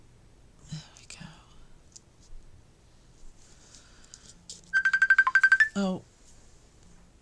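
A phone ringtone bursts out in a quick run of bright pulsing beeps ending in a falling tone, loud against near-silence, after soft whispering and small tapping sounds.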